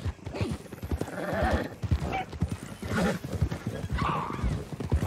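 Horse hooves clip-clop in a steady rhythm, and a whinny rises over them, all in Red Dead Redemption 2. The sounds are close and moderately loud, with only a trace of voice in the background.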